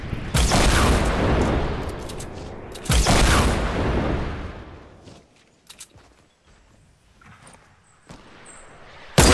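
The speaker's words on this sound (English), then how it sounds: "Wait, watch out, it's a rocket!" Explosive blasts and gunfire from a Fortnite squad match, with two loud bursts of booming fire early on, quieter scattered shots and footsteps in the middle, and a sharp blast at the end.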